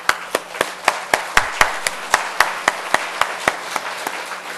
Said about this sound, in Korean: 오늘 제 아내가 같이 했는데 한번 큰 박수를 한번 해주시기 바랍니다.